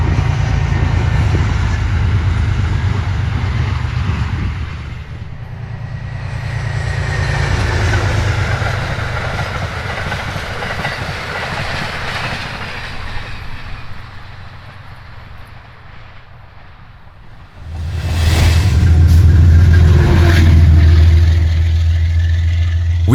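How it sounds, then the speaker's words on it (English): A southbound train carrying a New York Central lounge car rumbles past near Dobbs Ferry, with a loud low rumble that fades midway, then surges again as another section passes close by. "We catch another overhead look of the New York Central Lounge car as it approaches Dobbs Ferry traveling southbound."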